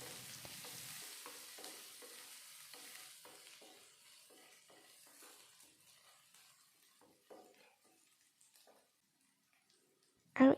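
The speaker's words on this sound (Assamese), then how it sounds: "গেছৰ ফ্লেমটো মিডিয়াম কৰি পিঁয়াজখিনি ভাজি ল'ব।" Chopped onion fries over a medium gas flame and is stirred in a pan with soft, repeated scraping strokes under a faint sizzle, quiet and close, ending in a brief loud clatter.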